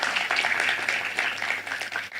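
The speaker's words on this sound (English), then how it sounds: "let's give a round of applause for Durgesh Nandini" An audience applauds a panelist at a talkathon event, with steady, dense clapping from many hands that holds throughout at moderate loudness, thinning slightly toward the end, with no voices over it.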